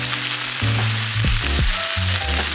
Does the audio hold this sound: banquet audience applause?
no